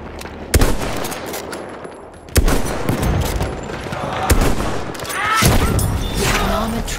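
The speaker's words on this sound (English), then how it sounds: "Enemy machine gun." Enemy machine gun fire in the shooter Battlefield 1: heavy bursts of gunfire with sharp loud shots, sustained rattling and explosions over battle noise, fairly close, with some voices mixed in.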